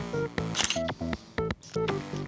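A camera shutter clicks repeatedly as photos are taken of a buyer posing with a sacrificial cow at a livestock market, with short sharp snaps over a tonal, music-like background.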